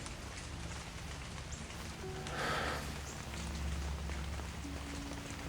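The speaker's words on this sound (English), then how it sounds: "I love it when it rains in the summer." Summer rain falling, a steady broadband hiss of drops across the whole stretch that swells briefly in the middle, with faint low tonal hums underneath and no voices.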